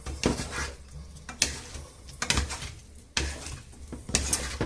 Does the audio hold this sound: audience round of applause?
no